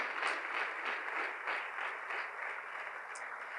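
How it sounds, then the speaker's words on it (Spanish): A church congregation claps together during a Spanish-language worship service, a rhythmic burst of hand claps at moderate level, with no voices over it. "Dele fuerte las palmas al bendito Rey esta mañana."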